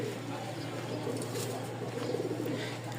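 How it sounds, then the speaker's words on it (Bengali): A male pigeon coos in a loft of Rajshahi Giribaz and Lotan pigeons, a soft low murmuring that runs steadily through the moment with faint chirps from other birds behind it. "আমি আগে নটটার ডাক দেখাবো আপনাদেরকে, যে আসলে কবুতর কি সুন্দর ডাকে।"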